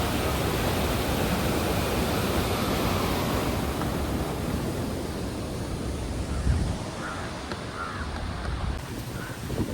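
Water rushing from the opened gates of Harangi Dam, a dense, steady roar like heavy surf that fills the scene continuously with no voices.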